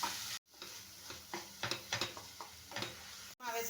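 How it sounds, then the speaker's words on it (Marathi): Mawa (khoa) being stirred and roasted in hot ghee, with a soft sizzle under repeated scraping strokes of a spoon, broken by two short silent gaps. "तूप गरम झालेलं आहे त्याच्यामध्ये आपण हा पाव किलो मावा आणलेला आहे तो घालूया आता चांगलं मिक्स करून जरा बारीक भाजून घ्यायचं"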